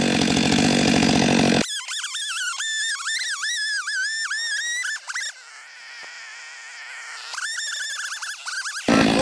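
A Stihl 462CM chainsaw cuts oak and walnut firewood with loud, close, wavering engine whine that rises and falls under load, idles briefly in the middle, then bites into the wood again.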